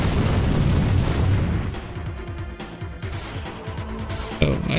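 A Viper weapon fires in a video game with a deep, rumbling explosive boom that starts loud and decays over a couple of seconds, followed by smaller bursts and pops at close range.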